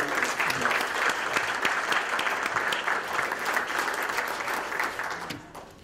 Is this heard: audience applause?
yes